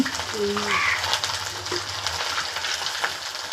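Vegetable curry frying in oil in a home kitchen, a steady broadband sizzle running throughout at moderate level, with a brief faint tone and a few low knocks near the start.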